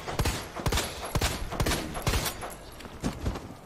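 Rapid gunfire in the Resident Evil 2 Remake video game, a burst of sharp shots in irregular rhythm, loud and close, with no talking over it.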